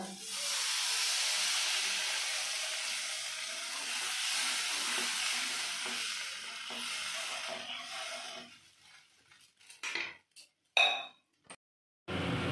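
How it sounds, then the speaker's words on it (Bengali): Bengali fish curry gravy (vola macher jhal) bubbles and hisses steadily in a pan for several seconds, then the steam fades and a few sharp clinks of utensils sound close by. "ঝোলটা ফুটে গেছে"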